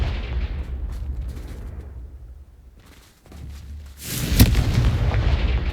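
A Confringo explosive spell goes off in Hogwarts Legacy, a loud rumbling blast that swells after a brief lull, following fading booms from an earlier impact, with no talk.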